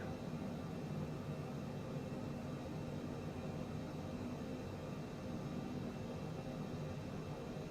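A Cessna's engine in Microsoft Flight Simulator 2020 drones as a steady, uniform cockpit roar, unchanging throughout at moderate level.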